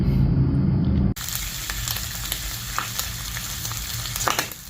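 Pork cheek sisig frying with onion and soy sauce, giving a steady close sizzle that stays loud throughout with scattered crackles and stirring scrapes, following a brief burst of louder low rumble at the start.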